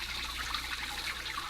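A water fountain running, a steady rushing trickle of recirculating water, continuous and even, moderately close, with no talking.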